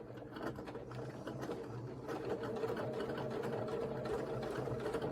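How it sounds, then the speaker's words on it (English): Quilt block pieces feed through a sewing machine in one continuous close whirring run that grows slightly louder, steady and mechanical, with no talk. "Needle down, and we'll go ahead and sew this"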